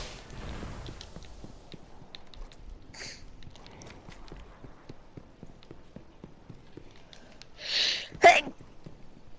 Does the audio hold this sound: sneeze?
yes